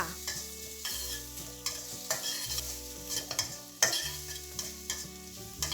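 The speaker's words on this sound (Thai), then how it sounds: "ตามด้วยกระเทียมสับ พริกขี้หนูซอยละเอียด ผัดให้มีกลิ่นหอมค่ะ" Minced garlic and sliced bird's eye chilies stir-fried for a sea bass chili stir-fry, soft sizzling under repeated spatula scrapes and clinks against the pan, close but fairly quiet, no voices.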